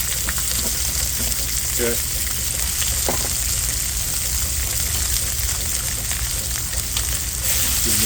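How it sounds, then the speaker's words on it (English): Peppers, onions and garlic sizzle and fry steadily in leftover sausage oil in a pan, a loud continuous crackle with occasional stirring scrapes, and a brief spoken word near the start. "we're going to add our peppers, onions, and garlic right here to the same oil"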